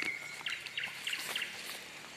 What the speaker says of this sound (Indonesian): sekarang yang terdengar hanya burung cengkurileng